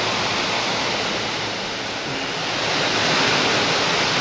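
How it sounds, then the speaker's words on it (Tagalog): Heavy rain driven by strong wind makes a steady, dense roaring wash that swells slightly toward the end, with no voices. "hangin na malakas na may kasama na ulan"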